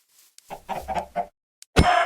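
A Minecraft chicken clucks in a short run of close, quick notes, then lets out a louder squawk at the end.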